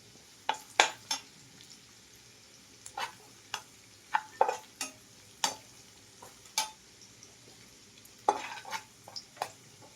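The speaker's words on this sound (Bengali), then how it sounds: "দেখুন এইভাবে ভেজে নিতে হবে, একটু ভালো করে ভাজতে হবে" Chopped green chillies fry in a pan with garlic under a faint, quiet sizzle, while a utensil scrapes and taps against the pan in sharp, irregular strokes close by. No one speaks.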